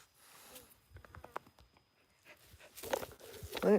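A dog pants in quick bursts close by while scratching and pawing against a person, the rustling and huffing growing louder toward the end, with brief human vocal sounds earlier.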